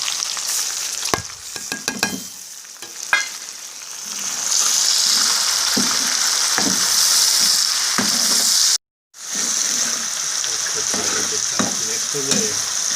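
Onions, masala and tomatoes frying for a village-style fish curry, a loud steady sizzle in the pan with spatula taps and stirring scrapes, cutting out briefly before resuming.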